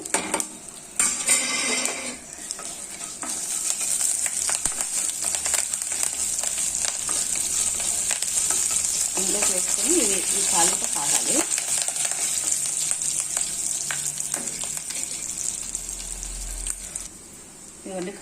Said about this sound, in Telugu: జీలకర్ర ఆవాలు ఎండుమిర్చి కరివేపాకు మొత్తం కలిపి దీంట్లోకి వేసుకోవాలి